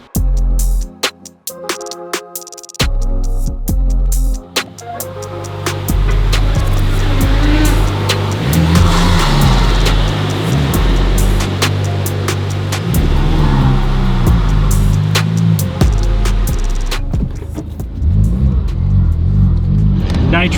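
Honda Civic Type R FL5 on a freeway, a loud steady engine drone and road rumble inside the cabin with shifting pitch as it cruises, preceded by a few choppy bursts at the start.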